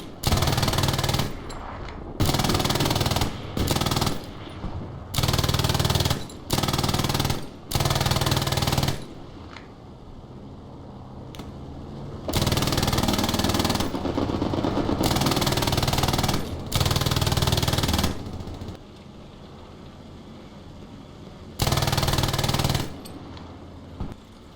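Light machine gun fire in the World War II shooter Hell Let Loose: loud, sustained automatic bursts of several seconds each, separated by short pauses and quieter battlefield ambience, with no talking.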